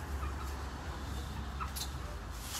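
Low, muffled clucking from a rooster among other fowl, steady background noise throughout, with no clear talk.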